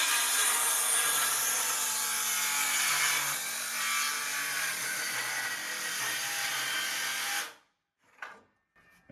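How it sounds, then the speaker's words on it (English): A bevel-bladed power saw rips steadily through wooden stair risers for a staid off-grid home build, a loud continuous buzzing cut lasting about seven seconds before it stops abruptly, followed by a couple of brief knocks. "So now that we've cut all of our treads, we're going to cut all of our rises."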